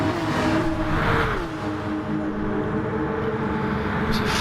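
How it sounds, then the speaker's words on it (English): A pack of Porsche race cars in a racing game sweeping toward Parabolica at Monza, engines droning nose to tail with sustained, shifting tones and steady loud presence. "Fleet of Porsches"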